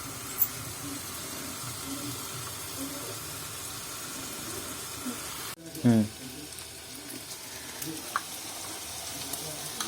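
Onions frying in oil for a village-style spicy fish curry, a steady sizzle running throughout, interrupted briefly by a clatter of stirring.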